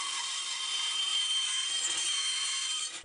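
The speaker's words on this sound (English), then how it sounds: "Next, we cut out the approximate shape of the circle around the gear template." Wood being sawn to cut a rough circular gear blank around a paper template, a steady continuous rasping for about three seconds, close and alone, tapering off at the end.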